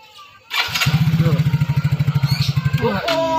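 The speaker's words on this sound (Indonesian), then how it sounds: "Buset ini motor aus banget, kayak suara Isma lagi nyanyi dangdut." A badly worn motorcycle engine starts and runs close by with a rough, loping idle, a steady rhythmic thumping, while a person speaks briefly over it.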